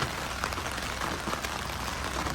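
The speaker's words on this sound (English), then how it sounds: "It is raining hard." Heavy rain falling in Charleston, a dense continuous hiss of drops hitting surfaces close by, steady and fairly loud throughout with no voices over it.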